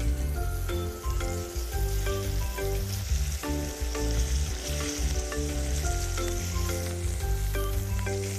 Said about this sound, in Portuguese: a panela precisa estar bem quente e o camarão, gente, botou na panela, não pode ficar virando